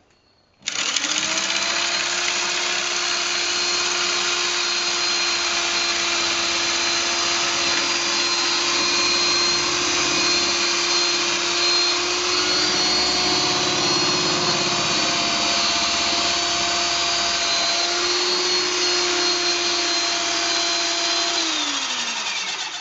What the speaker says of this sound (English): insert the 1/2 inch square dowel or board in the socket of the electric drill